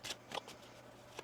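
A deck of tarot cards is shuffled in soft, quick riffles, several brisk papery bursts close to the listener with short pauses between them in an otherwise quiet room.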